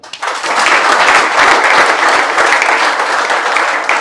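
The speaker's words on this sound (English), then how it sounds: "So round of applause for all of them." A graduation audience at a shipping-career academy bursts into loud, dense applause that holds steady for several seconds, close and full, with no speech over it.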